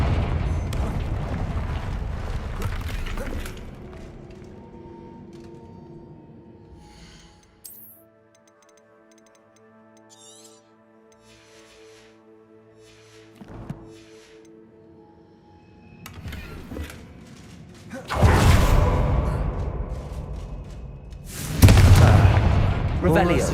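A Confringo fire spell blasts in a video game, bursting into deep, loud booming explosions late in the sequence after a quieter stretch of sparse ambient tones, with a voice talking at times.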